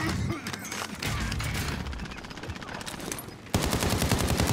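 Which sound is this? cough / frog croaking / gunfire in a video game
gunfire in a video game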